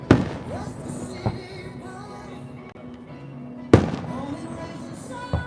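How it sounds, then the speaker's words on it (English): Fireworks at a night-time beach festival burst in two sharp, loud booms a few seconds apart, each trailing into crackle and rumble. A low hum and faint voices sit underneath. "try to keep those fireworks in the background"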